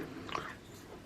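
A single crisp, close bite into a crunchy snack from an Estonian Armed Forces ration, followed by quiet chewing in an otherwise still room.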